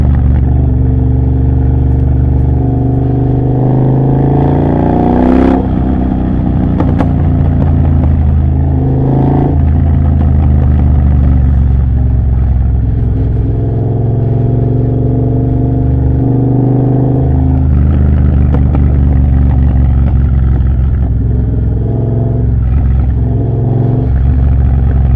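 A Triumph Bobber motorcycle with a Motone Mayhem X-Pipe exhaust rides down a road, its loud engine burbling steadily and swelling through several throttle changes and gear shifts with no talk.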